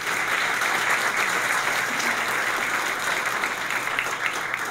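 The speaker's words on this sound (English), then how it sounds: "Let's have a round of applause for Allison Charbonneau and all the staff here at Old Scotland" Diners at a chamber luncheon at Old Scotland Links golf club applaud the restaurant staff, an even, sustained roomful of clapping at moderate loudness with no speech over it.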